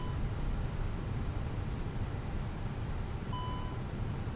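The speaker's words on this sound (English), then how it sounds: "That beeping is when I put my toe brakes all the way forward" Toe brake warning beep in the FlightFactor A350 within X-Plane 11, a short tonal bleep near the end sitting over steady broadband cockpit rumble and hiss.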